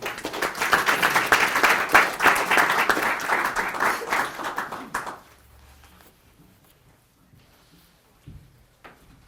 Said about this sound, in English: Let's give a round of applause for Dr. King